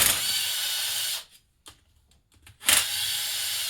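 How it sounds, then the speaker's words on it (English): A power tool whirs loudly while removing two 8mm bolts from the cam chain tensioner of a Yamaha Big Bear 350 ATV engine, pausing for a moment of small clicks before spinning up again. "So let's get those 8mm bolts out."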